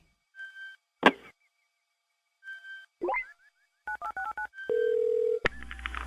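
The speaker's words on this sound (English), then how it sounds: "Let's go to the random phone dialer and make some calls." A random phone dialer plays a series of telephone tones: short beeping bursts, a quick run of dialing tones and a longer held tone, clean and close with gaps between.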